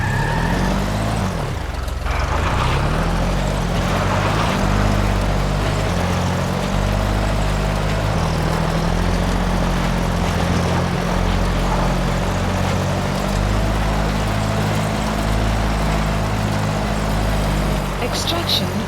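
Support helicopter arriving in Metal Gear Solid V: The Phantom Pain, a steady loud rotor drone with a low rhythmic thump that holds throughout, mixed with game music and occasional radio voice.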